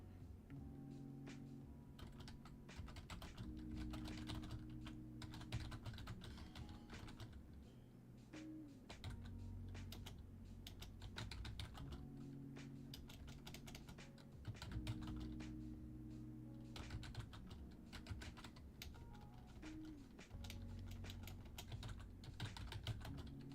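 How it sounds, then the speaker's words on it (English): Continuous typing on a computer keyboard, a quiet, close patter of rapid key clicks in irregular bursts over a soft looping background tune, with no talk. "Sorry guys, I'm typing some stuff down for you."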